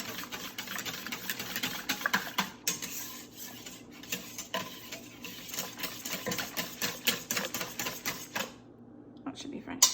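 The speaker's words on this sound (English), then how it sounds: "So I like to use my whisk before I try to put it on my mixer" A hand whisk clatters rapidly against a bowl of sourdough English muffin batter, a quick, steady ticking scrape at moderate volume that stops briefly near the end, with someone talking over it.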